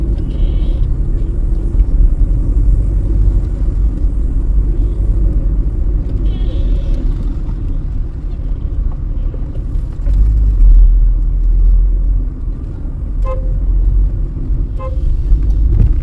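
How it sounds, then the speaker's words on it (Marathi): Cars and vehicles stand in a slow roadside traffic jam, giving a steady low engine rumble and road noise with a few faint horn toots and occasional background voices. "मानगाव संपलं नाही तरी पण अजून गाड्या पाठोपाठ उभ्या आहेत सगळ्या"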